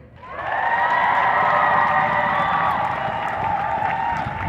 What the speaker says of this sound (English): Let me hear a clap for them.